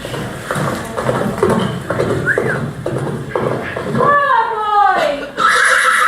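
A horse neighing in a stage pantomime, a drawn-out whinny that rises and falls toward the end, following busy theatre talk and clatter and a brief high squeal.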